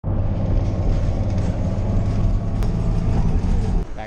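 Subway train in a station, a loud, steady rumble and rattle of rail cars filling the whole stretch, with a brief squeal near the middle.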